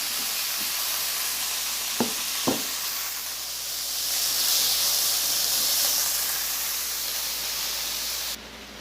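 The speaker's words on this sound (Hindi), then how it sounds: "ये मेरा दूसरा पैन है जिसमें मैंने ये गाजरें, किशमिश और काजू हैं, उनको मैं हल्का सा सौते कर लूँगी" Carrots, raisins and cashews sauté lightly in a pan as a mutton Kabuli pulao comes together, giving a steady soft sizzle and hiss with a couple of brief utensil clicks; no voices.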